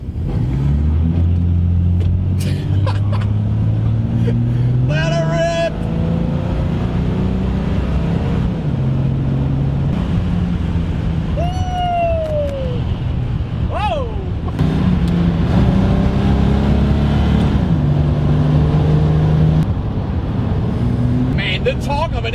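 A stock 1970 Dodge Challenger with an inline six roars through a quarter-mile run, its engine loud and close in a heavy, steady drone with rising pitch sweeps as it accelerates, while voices talk over it.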